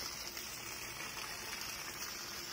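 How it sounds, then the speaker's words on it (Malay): A strong jet of water gushes from a house's main water pipe, making a steady, loud, unbroken hiss and rush with no talking. "inilah pancutan air yang dihasilkan daripada main pipe."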